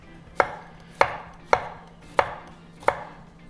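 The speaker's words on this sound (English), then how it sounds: "I'm going to take 4 garlic cloves because if you're gonna use onions, you gotta use garlic, and I'm gonna chop those" Garlic cloves being chopped with a knife for smothered chicken, five sharp, evenly spaced cuts landing on a board about every two-thirds of a second, close and clear with no talk.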